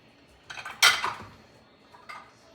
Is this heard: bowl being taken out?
yes